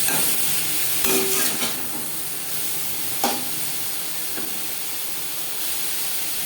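Bottle gourd stems with turmeric and salt fry in a pan with a steady sizzle, broken by a couple of sharp stirring clinks and scrapes.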